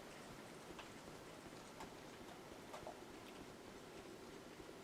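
Steady rain from the Dark Souls 2 video game, a dense even hiss of falling drops with faint scattered patters, continuous and fairly quiet throughout with no talk.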